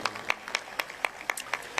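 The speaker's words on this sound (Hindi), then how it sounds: "जोरदार ताली बजाओ इन बच्चों के लिए" An audience at a night-time gathering claps for children in steady, rhythmic unison, with sharp, evenly spaced beats about four per second at moderate loudness and no talking over it.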